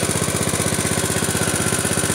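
A small engine drives a fertigation pump that feeds fertilizer mix to a vegetable garden, running close by in a steady, fast-pulsing chug with no talk over it.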